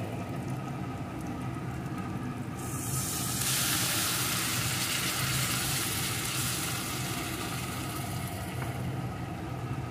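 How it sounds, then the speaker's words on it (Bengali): Soybean paste frying with spice masala in a pan, a loud steady sizzle that swells sharply a few seconds in and holds over a low continuous hiss, with no talking. "এখন আমি সয়াবিনের পেস্টটা এর ভিতরে দিয়ে দেব"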